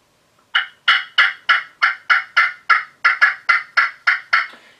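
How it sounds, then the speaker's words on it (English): A 2-in-1 trough turkey call of red cedar played with a black walnut striker, giving a steady run of about thirteen crisp, loud yelps in even rhythm, close up with no talking. "So it's a 2-in-1 trough call, and he's got the black walnut striker."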